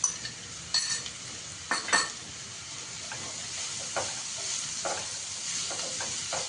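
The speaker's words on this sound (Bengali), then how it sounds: "এটা এখন ভালো করে একটু ভাজা ভাজা হবে।" Chopped beans, carrot, green chili and ginger fry in a hot pan with a soft, constant sizzle, broken by several metallic clinks and scrapes as a spoon stirs the vegetables.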